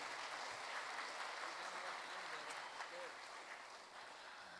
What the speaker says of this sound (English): one more time, a big round of applause for Griffin Middle School